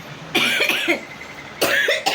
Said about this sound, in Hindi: खांसी भी आ रही है।